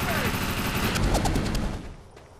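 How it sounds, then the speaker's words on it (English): Gunfire in the Defiance video game, a rapid fusillade of overlapping shots rattling for about a second and a half before tapering off, with a faint voice beneath. "I'm under fire!"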